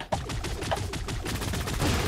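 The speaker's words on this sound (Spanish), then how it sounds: "La ha matado ahí Olimpo con la minigun" Minigun fire in the shooter game Creative Destruction: a loud, unbroken stream of rapid shots rattling for about two seconds with no talking.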